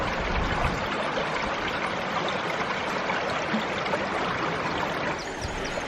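River water rushes steadily around big stepping stones made from old gate posts near Boscastle, Cornwall, a loud close continuous broadband flow with no voices.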